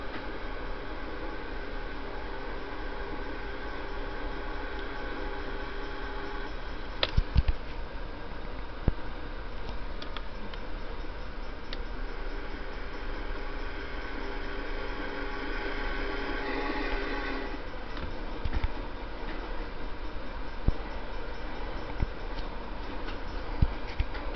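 A train runs in the Trainz railway simulation game, a steady low rumble and hiss with faint rhythmic clicks and a few sharper clanks along the way, moderately quiet and continuous.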